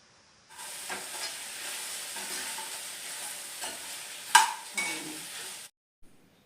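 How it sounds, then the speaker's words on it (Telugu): Onions and spices for a homemade garam masala paneer gravy fry in a pan, a steady close sizzle with occasional stirring scrapes and a louder spatter near the end. "బాగా ఇవి మగ్గిపోయేంత వరకు వేయించుకోవాలి"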